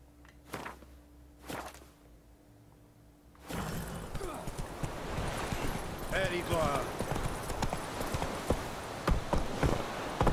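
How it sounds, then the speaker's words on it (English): Hooves of a horse in Witcher 3 clip-clopping up a stone staircase, a dense run of rapid hard knocks after a quieter opening with a few isolated thuds, close and steady with someone talking over them. "can I take my horse right up the staircase?"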